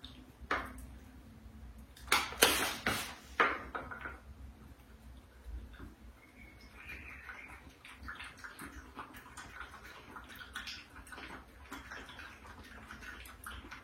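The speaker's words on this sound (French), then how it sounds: "Je mets un petit peu d'eau dedans, comme ça. On remplit le petit bac et Tito, il boit dedans." Water poured into a small cooling water tray for a dog in summer heat, preceded by a few sharp plastic clicks, then a faint, steady trickle that continues quietly.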